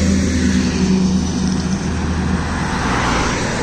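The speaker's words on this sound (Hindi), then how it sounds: "सामने से कोई भी बस या गाड़ी आ रही" Steady roar of a bus or car passing on a road between Jammu and Katra, loud and continuous with a low engine rumble and no pauses.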